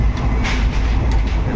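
Steady rumble and rattle of a moving train carriage from inside, with continuous low-frequency roar and faint clicking of wheels, no talk.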